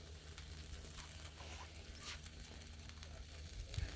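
Bologna frying on a flat griddle, a steady low sizzle with scattered crackles and pops running throughout, fairly quiet and close.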